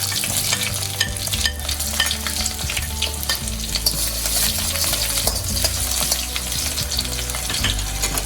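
Onion and garlic frying in hot oil with whole dried red chillies, a loud continuous close-up sizzle with constant stirring scrapes and clinks throughout, no voices.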